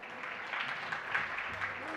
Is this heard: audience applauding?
yes